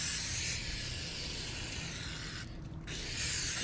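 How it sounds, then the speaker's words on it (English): Brake cleaner hisses in a steady, close spray onto a new brake rotor on a 2004 Dodge Ram 1500, one long continuous burst with a brief break near the end. "Some brake clean."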